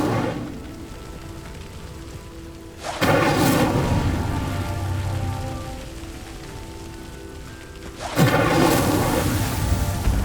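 Incendio fire spell cast in the Hogwarts Legacy video game, two sudden loud whooshing bursts of flame that flare up and then settle into a crackling, rain-like roar.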